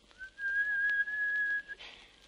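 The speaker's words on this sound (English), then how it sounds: "she heard the faint answering whistles outside" A single sustained whistle holds one steady pitch for about a second and a half, then ends in a breathy rush. It comes from a spooky Halloween ghost-story recording and is heard clearly, with no talking.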